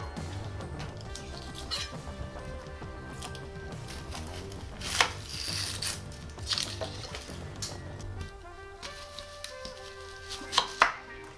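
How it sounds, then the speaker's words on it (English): Knife chopping onions into thin strips on a cutting board, a steady run of close, crisp cuts with a few louder knocks, no talking. "for the onions, I just like to cut them into little thin strips"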